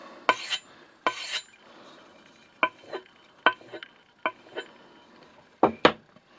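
An axe edge is stropped on a leather strop in a workshop, heard as a run of short rasping strokes, some paired, irregularly spaced and fairly close against a quiet background.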